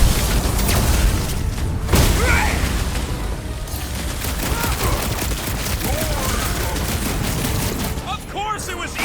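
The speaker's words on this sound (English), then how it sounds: "I'll lay down some cover fire to get you across!" Sustained gunfire in Marvel's Guardians of the Galaxy, a continuous rattle of shots and booming impacts during combat, with voices shouting and talking over it.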